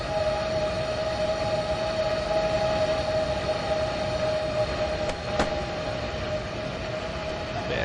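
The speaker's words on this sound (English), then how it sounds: "these are these new sounds that play when the train speeds up" A train accelerates in the video game Train Sim World 3, a steady rumble with a sustained whining tone and a brief clank partway through, no talking.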